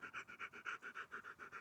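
A dog pants close by in a steady, quick rhythm of about a dozen soft breathy huffs, faint and alone with no talking.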